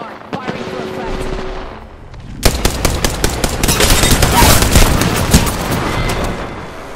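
Rapid gunfire from the Apex Legends video game: quieter scattered shots at first, then a loud, sustained burst of dense automatic fire and heavy impacts that continues to the end, with no talking.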